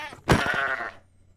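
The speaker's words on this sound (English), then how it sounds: "I guess I could kill the sheep." A Minecraft sheep gives one short, loud, wavering bleat as it is struck and killed in the video game, then the sound quickly fades to quiet.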